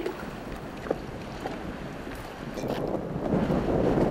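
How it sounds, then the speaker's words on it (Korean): Wind blowing hard at night around a harbour where a fishing boat with a newly fitted propeller is moored, a steady broadband rush with faint sloshing that swells louder toward the end. "바람 부니까 밤에"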